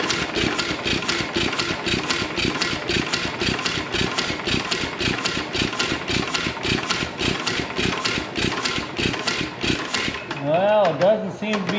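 A worn, loose 1920s Ottawa drag saw engine runs with a rapid, even chugging beat close by, then cuts off near the end, where a voice briefly talks.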